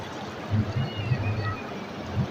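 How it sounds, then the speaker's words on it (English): A river flows close by during a meditation session, a steady rushing wash of water with soft low gurgles, continuous and fairly near, with no voices. "Closer sound is river sound. Listen the river sound."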